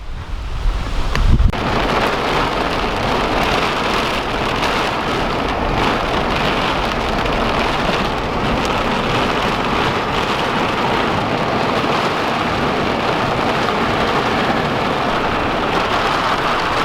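Heavy rain pours steadily during a storm at a lake, a dense loud hiss that continues without a break after a brief louder thump at the start.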